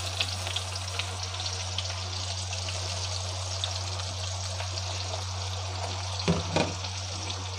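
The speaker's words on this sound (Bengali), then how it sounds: "এবার আমি তেলে পেঁয়াজগুলো দিয়ে দেব।" Onions sizzle and fry steadily in hot oil in a pan alongside dried chillies, bay leaf and meat masala, a continuous crackling hiss with a brief stir near the end.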